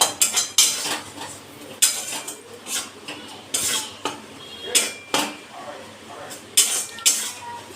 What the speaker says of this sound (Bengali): বেসনটাও মা লঙ্কাটার সাথে ভেজে নিচ্ছে